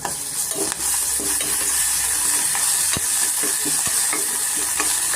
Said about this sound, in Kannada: ಸ್ವಲ್ಪ ಫ್ರೈ ಆದ ತಕ್ಷಣ ನಾವು ಈರುಳ್ಳಿ ಸೇರಿಸ್ಕೋಣ ಸಾರಿ ಶುಂಠಿ ತುರಿ